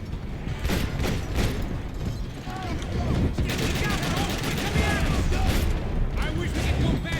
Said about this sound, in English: Swap to our AK and start doing some damage.